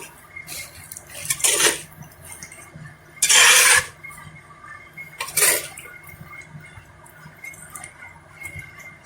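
Rotted cow-dung compost and garden soil are mixed for mushroom casing soil, giving several short, scraping, gritty bursts separated by quiet pauses, close to the listener.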